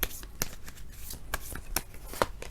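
Tarot cards being shuffled during a Scorpio reading, a run of quick papery riffles and soft slaps at an uneven rhythm, close and fairly quiet over a faint background.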